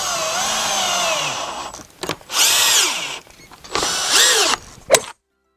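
A power drill drives bolts into a furniture frame in short bursts: a long whirring run, then two more rising whines separated by brief pauses, ending with a quick blip, loud and close.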